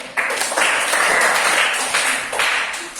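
Classroom applause during a music lesson, a dense wash of many hands clapping that fills the room loudly and steadily, rising again near the end, with no talk over it.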